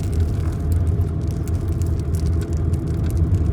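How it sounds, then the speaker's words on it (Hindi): A car engine revs with a low, steady rumble as the driver accelerates on a hill road, close and fairly loud. "देखो मैंने यहीं ज़्यादा रेस दे दी थोड़ी, क्योंकि यहाँ विजन क्लियर था"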